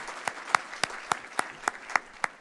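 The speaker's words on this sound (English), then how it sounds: "I want to have a round of applause for Columbus and being the smart city" Audience applause from a club luncheon crowd, a steady patter of hand claps that rises and fades over a couple of seconds.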